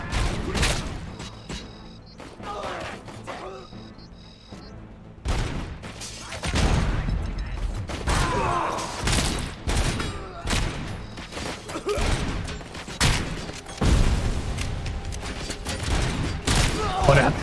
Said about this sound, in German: Erstmal dreimal um ihn rumschießen.